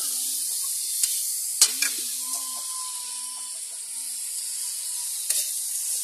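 Adobo in soy sauce sizzling steadily in a pan, a soft continuous fry hiss with a few brief scraping clicks of stirring and no talk.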